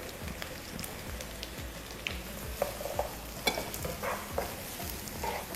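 Shallots sautéing in a pan after the garlic, with a steady sizzle and recurring scrapes and stirs of a utensil, close by and moderately loud, with no talk.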